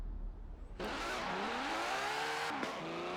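A Ferrari's engine in Forza Horizon 4 roars in after a brief lull, revving hard and climbing steadily in pitch through the gears, loud and close, with a quick shift break near the end.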